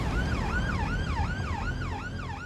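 A wailing ambulance siren on blue lights sweeps up and down in a steady repeating cycle, loud and close over a low road rumble, with no other sound breaking through.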